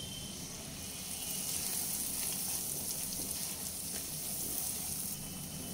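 Ground coriander, cumin and Kashmiri red chilli powder sautéing in a hot pan for a fish egg curry, giving a steady close hiss and crackle that runs unbroken and alone.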